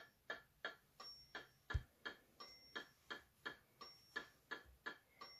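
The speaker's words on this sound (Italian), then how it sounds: "Come sentite, il metronomo è veloce" Built-in metronome on an entry-level SoundMy G-310W MIDI keyboard ticking at a fast, steady pace, about two and a half clicks per second, crisp and alone in a quiet room.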